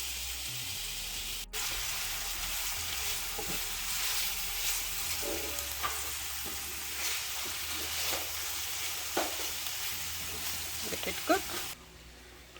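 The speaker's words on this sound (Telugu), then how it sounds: "పచ్చిమిర్చి, ఉల్లిపాయలు అండ్ కరివేపాకు ఇవన్నీ వేసి కొంచెం షాలో ఫ్రై చేసుకోవాలి, గోల్డెన్ కలర్ వచ్చే వరకు." Green chillies, onions and curry leaves shallow frying in oil, a steady moderate sizzle with occasional stirring scrapes, a faint low hum underneath and a brief click near the start.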